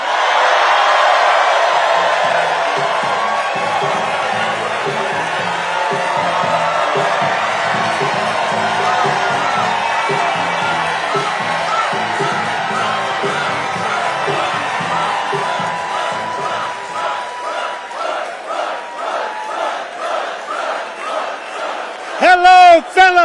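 A large campaign rally crowd cheers and whoops loudly for several seconds, the roar gradually thinning into scattered shouts, with a brief voice near the end.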